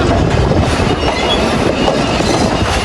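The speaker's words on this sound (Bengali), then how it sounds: "এই যে দেখেন এই ট্রেনটা আবার পরিষ্কার" An intercity passenger train on the Faridpur to Pangsha line arrives up close with a loud, continuous rumble of wheels and rail clatter and faint wheel squeal.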